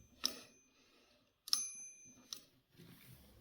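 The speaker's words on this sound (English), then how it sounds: "this little bell advises when you approach to the margin" The small margin bell on an 1895 Dactyle portable typewriter gives two crisp, clear dings about a second apart, each ringing briefly, amid quiet mechanical clicks.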